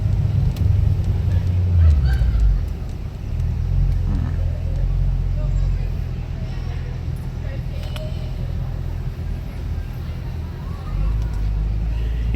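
A 2007 Mercedes-AMG SL55 engine running steadily during a ride along, with a loud, constant low rumble from inside the car and people talking over it.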